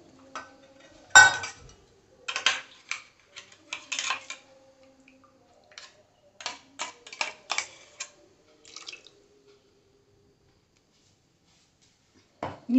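Spoon clinking and scraping in a pot while chicken curry with coconut milk is stirred, a series of sharp intermittent taps and clatters with wet sloshing between them, near and clear, then a pause.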